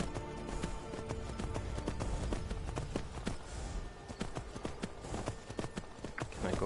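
Horse hooves clop rapidly and unevenly as the horse scrambles up a mountain slope in the video game Skyrim VR, close and fairly loud, with irregular bursts of hoofbeats.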